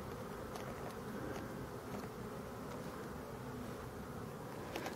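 Forest bees buzz around their colony in the woods, a steady low droning hum that fills the whole moment, faint and continuous with a few brief brighter passes of nearby wings.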